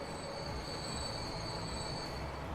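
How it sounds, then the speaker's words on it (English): In the Transport Fever video game, a construction materials train arrives at a station with a continuous rolling rumble and high, sustained wheel squeal, steady and fairly quiet throughout, with no voices. "And then you get one of the trains come in."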